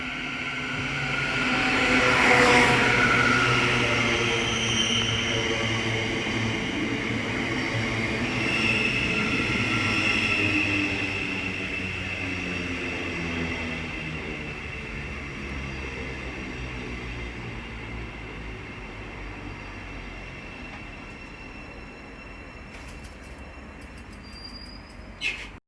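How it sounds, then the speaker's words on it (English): A Class 700 Thameslink electric train runs past on the East Coast Main Line, a steady rolling rumble and wheel noise with rising and fading tones that slowly fades as it moves away, with a brief high squeal near the end. "Thameslink service from London King's Cross to Peterborough. Being worked by a Class 700."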